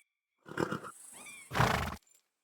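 A horse in Kingdom Come: Deliverance 2 lets out a short snort followed by a strong, shrill whinny, heard up close and alone against silence.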